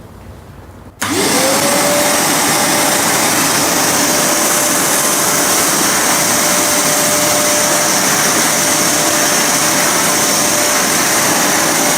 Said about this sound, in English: Next, we will show you the wet vacuum.